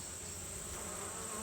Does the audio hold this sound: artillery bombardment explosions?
no